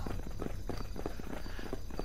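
Horse hooves clip-clop in a steady walking rhythm in the Sacred video game, moderately loud and continuous, with a faint voice nearby.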